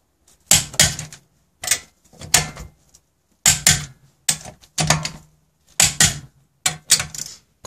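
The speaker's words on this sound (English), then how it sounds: "Now we want to properly torque down these lug nuts on this Honda." A torque wrench tightens lug nuts to 80 foot-pounds on a Honda Accord wheel, producing close, sharp mechanical bursts in short groups separated by brief pauses.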